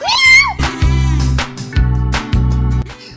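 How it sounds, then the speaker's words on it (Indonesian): A cat at a pet display at the F8 Makassar 2022 festival meows loudly and close, first a rising-falling high cry and then several long, drawn-out calls in a row. "Ini kucing"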